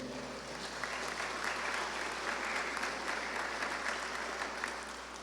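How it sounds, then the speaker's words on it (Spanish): Steady audience applause fills a formal industrial forum in Chiclayo, a dense, even wash of many hands clapping at moderate distance, sustained for several seconds without voices. "Aplausos para él, por favor."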